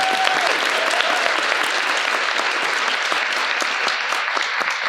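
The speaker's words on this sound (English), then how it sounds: "One more time for Annabelle." Audience applause fills a high school playwrights' showcase at an opera house, a dense, steady wash of many hands clapping at moderate distance for the full stretch, with no break.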